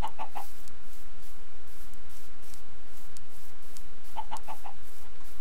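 Chickens cluck in the video game Minecraft, a few short soft clucks near the start and again near the end over a steady low ambient hum.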